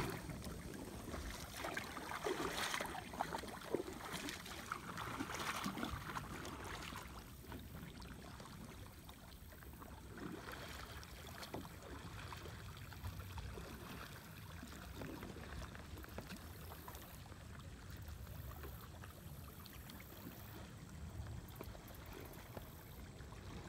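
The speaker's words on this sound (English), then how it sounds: "So let me do a quick paddle and I'll show you." An Eddy Gear Stingray XL kayak loaded with gear is paddled on open water, with steady splashing and dripping strokes under a constant broad wash and no talking.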